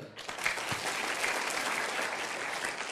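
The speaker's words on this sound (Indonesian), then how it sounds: "Tepuk tangan untuk beliau." Audience applause for sponsors at a motivational talk, a steady broadband clapping crowd sustained for the full stretch, moderately loud and close, with a voice briefly audible in the mix.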